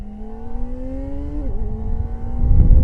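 2023 Kawasaki ZX-4RR inline-four motorcycle engine droning at steady revs while riding, a brief dip as the pitch shifts, then building louder toward the end with wind rushing underneath.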